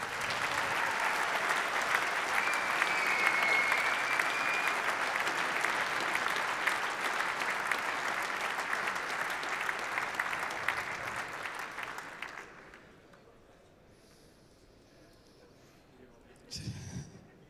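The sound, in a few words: audience applause at squash match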